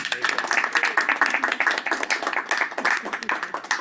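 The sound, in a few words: audience applause for a departing member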